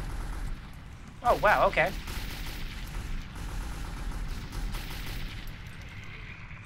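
Gunfire from the video game Metro 2033: a brief cluster of loud shots at about one second, then a steady murky game backdrop, with someone talking over it.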